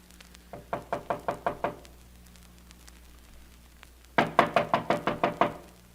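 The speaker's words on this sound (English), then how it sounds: "Wait, I'll knock." Knocking on a door in an old radio drama: a close run of six or seven firm raps, a pause, then a louder burst of about seven more knocks over a faint steady hum.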